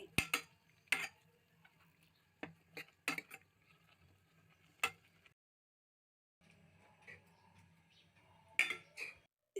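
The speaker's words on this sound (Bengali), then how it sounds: "হাতা দিয়ে ভালো করে নেড়ে নিচ্ছি" Chopped ginger and garlic being stirred with a ladle in a pan for mustard greens: sharp metallic clinks and scrapes in irregular bursts, close and fairly quiet, with a silent gap midway.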